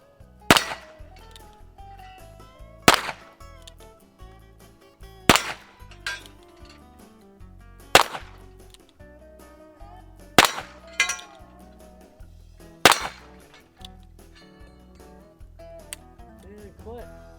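A Ruger Single Six .22 single-action revolver with a 9-inch barrel fires six sharp, loud shots a few seconds apart, each followed by clicks of cocking in the quiet gaps.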